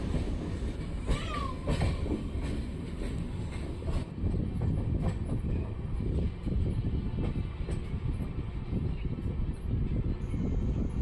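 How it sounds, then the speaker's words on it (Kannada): The Talaguppa–Bengaluru Intercity Express rolls past near Tiptur with a steady, loud roar of wheels and carriages and faint clacking throughout, no voices. "Talaguppa to Bengaluru intercity express crossing ಆಗ್ತಿದೆ"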